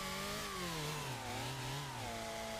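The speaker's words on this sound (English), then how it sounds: "I took my chainsaw and starting cutting them all down, cut them into smaller pieces" A chainsaw cutting down trees in a forest, its engine pitch wavering up and down as it bites and revs, fairly faint and distant, continuous with no talking.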